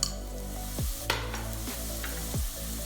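Turmeric powder stirred into hot oil with ginger and garlic in a pan for a Kerala crab curry, a steady soft sizzle with a few scraping stirs of a spatula, close and fairly quiet, no talking.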